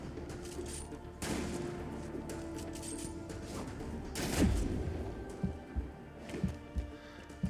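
Sniper gunfire in the Marvel's Spider-Man video game, heard as a run of sharp cracks and booms over a steady background rumble, with heavier bursts near the middle and scattered shots toward the end.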